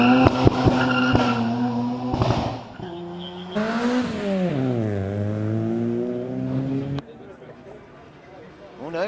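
A modified Metro with a roll cage, fairly stock-looking but tuned, revs hard in a retro car gathering paddock; the engine note climbs and falls in several loud, close sweeps before settling to a lower idle.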